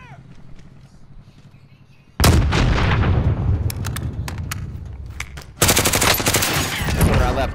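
Loud, close gunfire rattles through a Call of Duty: Modern Warfare match. It starts as dense bursts that roll on without a break, and a second heavy volley breaks in near the end.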